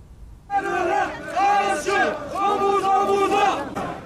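Thousands of marchers in Van, Turkey chant in unison at a protest against terrorism, a loud rhythmic crowd chant of repeated rising shouts running continuously throughout.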